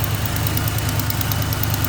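A car engine idles steadily after a radiator flush, a continuous close low rumble with a faint ticking pulse and hiss over it, with no talking.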